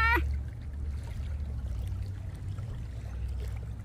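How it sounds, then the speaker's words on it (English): Water rushes and flows steadily outdoors, close and constant, with a low rumbling wash under a brief voice at the very start. "I love the sound of the water."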